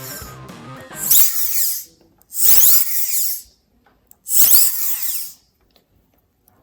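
Three loud bursts of high-pitched whirring from a powerful servo motor rated to move 55 pounds, each about a second long, separated by short pauses; the first comes over a brief low rumble.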